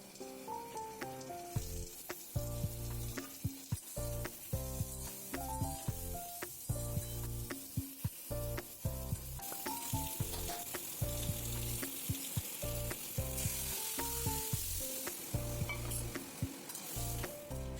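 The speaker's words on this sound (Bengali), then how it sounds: "রসুনটা লাল লাল ভাজা হলে এর মধ্যে আমি সেদ্ধ করা ইঁচড়টা দিয়ে মিনিট খানিক নাড়াচাড়া করে নেব" Boiled jackfruit and lentils stirred in hot garlic-fried oil, a loud sizzle with repeated scraping stirs, heard close under rhythmic background music and no speech.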